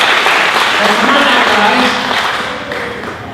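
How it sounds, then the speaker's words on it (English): Audience applause at a Corvette Dream Giveaway award ceremony, a steady dense wash of clapping that holds at full strength and then slowly tapers toward the end. "let's give them a round of applause there"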